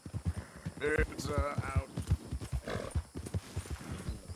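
Hooves of a horse in a Yellowstone roleplay video game clip-clop in a quick galloping rhythm with the horse whinnying, while a person speaks briefly over the steady hoofbeats.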